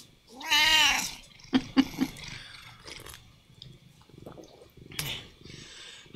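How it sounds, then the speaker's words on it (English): Pet cats meow, one loud drawn-out cry up close followed by several shorter, fainter mews and small household noises indoors, with no talking over them. "Yes, it's the kitties."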